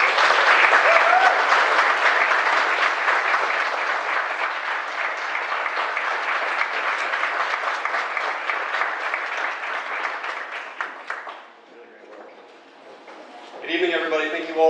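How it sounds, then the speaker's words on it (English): Audience applause at an evening presentation event, loud sustained clapping from a large crowd for about eleven seconds before fading, followed by a brief pause and the start of a voice speaking. "And get a round of applause again from the audience."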